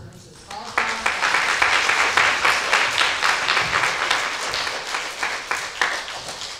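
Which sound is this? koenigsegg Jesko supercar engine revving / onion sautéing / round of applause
round of applause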